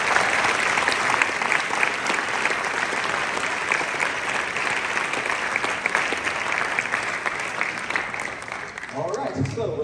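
Audience applause at a university honors band concert, a dense, steady roar of many hands clapping held at an even level for about ten seconds, with a voice starting to speak just as it ends.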